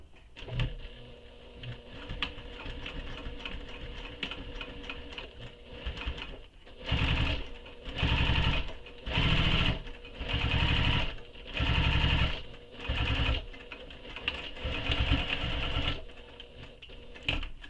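A sewing machine stitches a second row along a belt bag, running in several loud, steady bursts separated by short pauses, with quieter handling noises in between; no talking.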